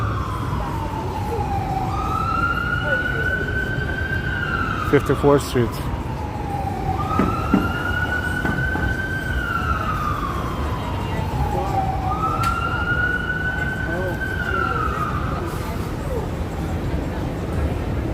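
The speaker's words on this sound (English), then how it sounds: "it is the worst time for the ambulance to navigate through Manhattan like that, because everything is congested" An ambulance siren wails in slow rising and falling sweeps through congested Manhattan traffic, steady and moderately distant over constant street rumble, with a voice briefly speaking.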